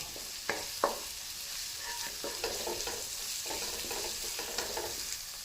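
Water hits a hot sizzling tadka for matar paneer in a pan, giving a few sharp bursts of hissing, then continuous frying sizzle with stirring scrapes, close and fairly quiet, with no talking.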